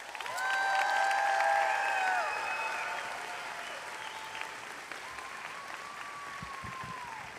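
Audience applause fills a graduation ceremony hall, a steady wash of clapping that starts strong and then slowly thins out, heard alone with a few faint high tones over it.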